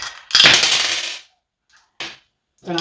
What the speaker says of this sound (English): I'm always dropping dice every week.